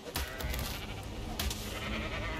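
Sheep bleating in the survival game ARK, set on the Fjordur map: two wavering bleats over a low ambient hum, fairly close, with no talking.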